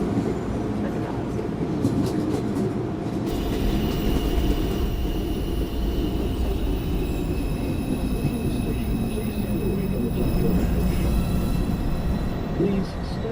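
A Manhattan-bound NYC subway 2 train, an R142A, rolls steadily with a loud continuous rumble and rattle, a faint high whine and squeal riding on top the whole way.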